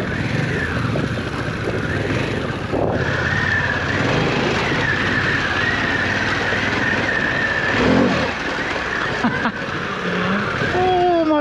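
A Harley-Davidson Pan America 1250 adventure motorcycle ridden enduro-style off-road gives a steady, loud engine drone with rises in revs and wind buffeting close to the rider. A voice speaks at times over the engine.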